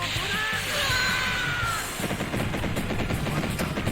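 Rapid gunfire bursts in the Tech Romancer arcade fighting game, a dense rattling volley of shots that grows choppy and stuttering in the second half, loud and alone with no talk.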